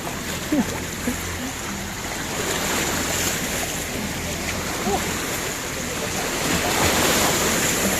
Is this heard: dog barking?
no